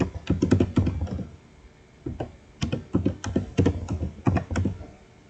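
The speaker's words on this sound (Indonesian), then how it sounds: "Kita ketikkan username-nya kita tadi." Username being typed on a computer keyboard at a login prompt: quick bursts of clicky keystrokes in uneven runs with brief pauses between, close and clear, no talking.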